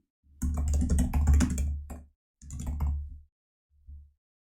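Quick bursts of keystrokes on a computer keyboard while a module gets renamed, three close clattering runs separated by short silences, the last one brief.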